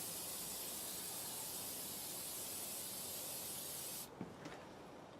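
Spray gun laying another coat of finish onto a bass guitar body: a steady, close, loud hiss running for about four seconds, then cutting off to quiet with a couple of faint clicks.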